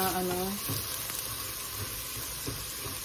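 Food being sautéed in a pan during large-batch home cooking, a steady close sizzle with a few clinks and stirring scrapes, preceded by a brief hum at the start.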